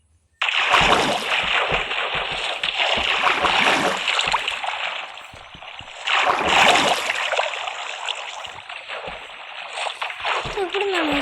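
Flowing water in the Minecraft video game makes a loud, continuous rushing wash that swells and fades slightly as it runs.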